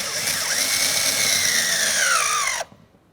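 A 7mm driver tightens the exterior door handle mounting screws on a 2001-2005 Ford Explorer Sport Trac. A close, high power-tool whine runs for about two and a half seconds with its pitch slowly dropping, then cuts off sharply into near silence.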